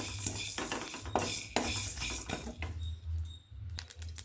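Cloves and a piece of cinnamon are dry-roasted in a pan, with repeated scraping stirs and metallic clinks of a utensil against the pan, close and moderately loud.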